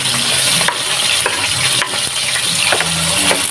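Garlic frying in a hot pan beside fish, a loud continuous crackling sizzle close up, broken by a few light clinks and scrapes of a utensil, with no voices.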